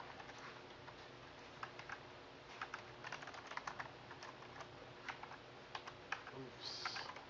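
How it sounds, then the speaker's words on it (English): Rapid, irregular clicking of fingers typing on a computer keyboard, coming in uneven bursts at a fairly quiet level with brief pauses, over a faint room hum. "This is what I do all day. Fucking typing."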